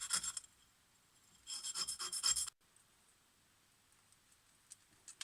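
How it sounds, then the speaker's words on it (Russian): Carburetor jet blanks for an Ozon carburetor on a VAZ 2107 are worked on emery, giving two short bursts of harsh, close rasping separated by a pause, followed by near silence with faint ticks. "можно обработать это торцы на наждачке, на наждачном круге"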